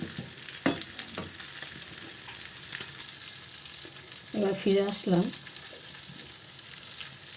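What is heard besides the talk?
food frying in a kadai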